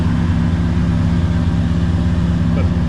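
A TVR Cerbera engine running on a Haltech ECU idles steadily, a close, even low rumble with a smooth, unbroken throb and no revving.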